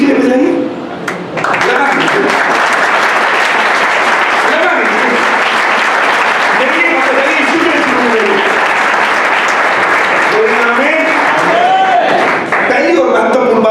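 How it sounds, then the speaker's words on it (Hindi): A church congregation applauding at a fellowship dedication ceremony in Batala: loud, dense clapping from many hands, sustained and even for the whole stretch. "ये ताली आपने यीशु के लिए बजाई"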